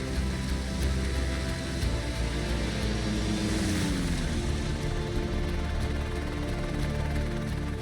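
Propeller aircraft engine droning steadily in the Flight Simulator video game, a dense continuous hum with a brief pitch sweep midway, loud and unbroken throughout.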